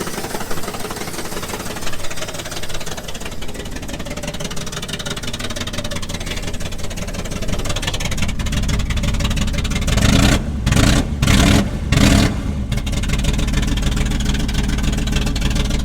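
A loud G-body car engine runs with a raw, unmuffled straight-pipe rumble, idling roughly and then blipping the throttle in several sharp bursts.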